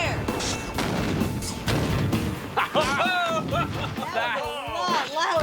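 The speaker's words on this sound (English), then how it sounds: "Will 10 pounds of low-velocity ANFO give Buster more of a heave-ho?" A blast from 10 pounds of low-velocity ANFO explosive gives a heavy, rumbling boom with a long, rolling tail, followed by excited voices shouting and reacting.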